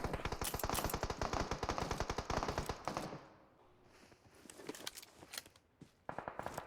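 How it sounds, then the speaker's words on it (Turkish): Gunfire comes from all sides in PUBG Mobile: rapid bursts of automatic fire crackle close and loud, pause for a quieter stretch, then return in more bursts, with no voices. "Her taraftan birileri sıkıyor canım."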